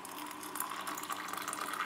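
Water trickles and splashes as it is poured over a green tea bag in a cup, a soft continuous stream with small gurgles, quiet and close, with no voices.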